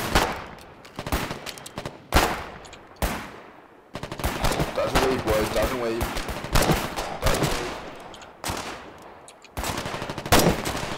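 Rifle and automatic gunfire in the war video game Foxhole, coming in repeated loud bursts and single cracks across the whole stretch, with brief gaps between volleys and some quieter chatter of shots underneath.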